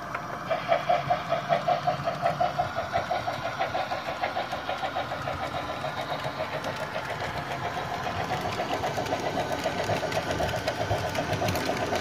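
A rhythmic chuffing engine sound from a Trix Big Boy model locomotive's DCC sound system, steady and mechanical, holding a regular beat with a faint high whine above it.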